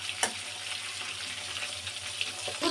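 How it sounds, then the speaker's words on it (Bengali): Fish frying in a pan until reddish: a continuous close sizzle and crackle with a few small spatters and a light knock near the start, no speech. "ওই জন্য আমার একটু মাছটা ভাজতে সময় লাগে, আর লাল লাল করে মাছটা না ভেজে আমি তুলি না।"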